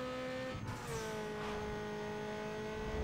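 A Nissan R34 Skyline GTR engine in NFS Underground 2 drones at high speed with steady harmonic tones, and a quick gear-shift dip breaks the pitch early on before it settles into a sustained, loud top-speed whine.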